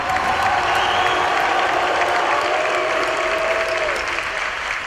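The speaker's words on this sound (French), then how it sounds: "Vous pouvez l'applaudir les gentils." A studio crowd applauds continuously after a Catwoman victory over Killer Frost in Injustice: Gods Among Us, with dense steady clapping and no voices over it.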